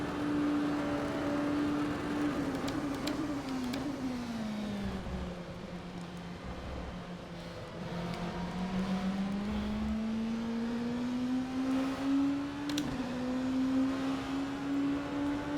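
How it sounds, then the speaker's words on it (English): A racing car engine in the video game rFactor 2, on a Le Mans test drive, drones continuously, its pitch dipping and climbing as it shifts and revs, steady and fairly loud with no voices. "I love the sound of this car. This is such a great sounding car."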